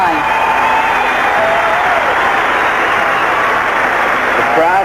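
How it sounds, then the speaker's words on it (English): A huge Olympic stadium crowd at the 1984 Los Angeles women's marathon roars in a dense, steady wash of cheering and applause that holds for the whole stretch, with a commentator talking over it. "The crowd still rising as one,"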